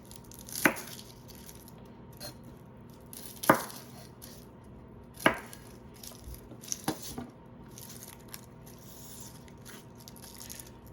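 Several sharp cracks and thuds as garlic cloves are pressed and crushed on a board, spaced a second or two apart, followed by softer taps.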